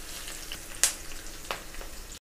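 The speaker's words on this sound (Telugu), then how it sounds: "ఈ ఆనియన్ చక్కగా వేగిన తర్వాత, అంటే కొంచెం లైట్గా బ్రౌన్ కలర్లోకి వచ్చేంత వరకు వేయించుకుంటే" Onions frying in a pan for tomato rice, cooked until lightly browned, give a soft steady sizzle with a few sharp stirring clinks and scrapes standing out above it.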